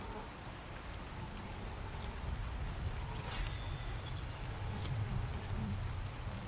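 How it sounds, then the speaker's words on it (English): Rain falling in the game Ark Survival Evolved, a constant, fairly faint hiss of drops with soft low rumble beneath and a brief brighter splash partway through. "Come on, it's raining out there."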